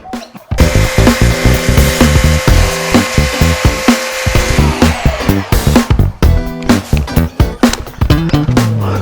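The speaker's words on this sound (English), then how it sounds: "So now 100 grit in the sander. More noise and dust." A power sander with 100-grit paper grinds loudly against wood in close, uneven strokes, the rough whirring stopping and starting in bursts.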